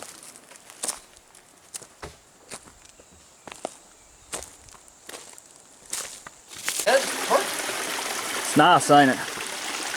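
A small, cold mountain stream trickles and splashes nearby, soft at first amid footsteps and rustling, then louder and steadier as it's approached, with someone speaking briefly over it.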